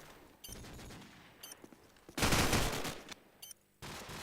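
Gunfire in Call of Duty 4 during a competitive bomb-defusal match, with short bursts of shots followed by a long, loud volley and a final burst, close and dense.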